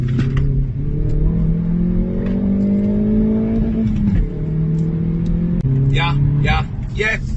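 A car engine revs loudly and close as automatic rev matching blips the throttle between gear changes, pitch climbing, then dropping and rising again, ending with a few sharp pops.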